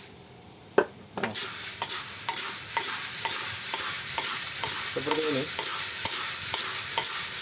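Coffee beans are stirred in a tilted wok during traditional roasting: regular scraping strokes about twice a second over a light sizzle, with a few brief spoken words.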